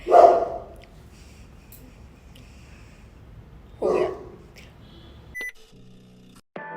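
A pet dog barks indoors in two short, loud bursts a few seconds apart, with quiet room noise in between and a few faint clicks near the end.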